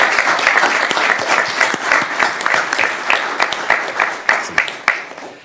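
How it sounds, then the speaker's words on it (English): A round of applause for a city department at a Newark City Council meeting: many people clapping in a full, sustained burst, with sharp individual claps standing out near the end as it begins to thin. "So if we could please give a round of applause for this department."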